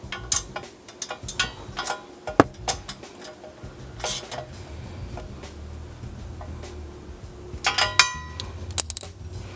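A wrench tightens the top bolts of an SDR front bumper, giving scattered metallic clicks, ratcheting ticks and light clanks at close range over a faint background hum.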